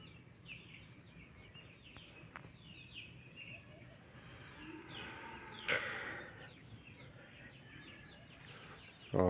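Chickens cluck and chicks peep steadily throughout, a busy chorus of small high calls at moderate distance, with one louder squawk near the end.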